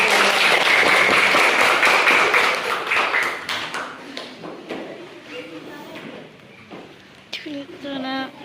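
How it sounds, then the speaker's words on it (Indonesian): Students in a classroom clap for their teacher, a loud burst of applause for a few seconds that thins out and fades, followed by voices talking nearby. "Tepuk tangan untuk guru."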